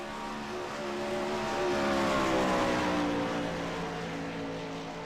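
A 410 winged sprint car at Knoxville roars past on a flying lap, its high-pitched engine note swelling as it nears, peaking mid-lap and fading slightly away, steady and loud with no talk.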